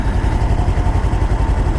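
A liquid-cooled Kawasaki Versys-X 300 motorcycle idles with its elaborate exhaust, a loud, close, steady low-pitched chugging with an even pulsing rhythm and no talking.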